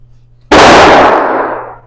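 A single loud firearm gunshot at an outdoor shooting range, sharp onset followed by a long ringing decay, with no talk.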